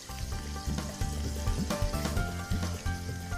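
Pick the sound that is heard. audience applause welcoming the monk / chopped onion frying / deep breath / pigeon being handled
chopped onion frying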